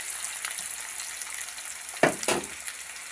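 Onions frying in oil for a local chicken and potato curry give a steady sizzle, with a couple of louder stirring scrapes about two seconds in.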